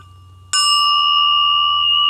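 A hard, finely made metal race gear from an Aermacchi engine rings out like a bell after a single sharp strike, a clear sustained tone that hangs without fading through the rest of the moment.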